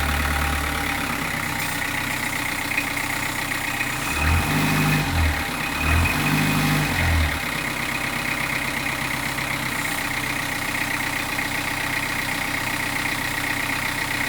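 A four-cylinder inline car engine idles steadily and smoothly close by, with a low hum that swells briefly twice before settling back.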